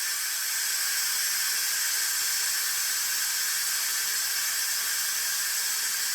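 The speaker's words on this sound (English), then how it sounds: "And there goes the rest of the steam." An Instant Pot vents the rest of its steam in a steady, loud, continuous hiss that holds unchanged from start to finish, with no voices.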